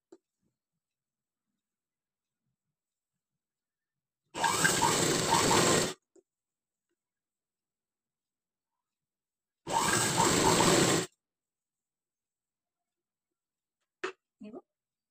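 A sewing machine stitches patchwork fabric in two short, steady runs of about a second and a half each, separated by quiet, with a couple of faint clicks at the end.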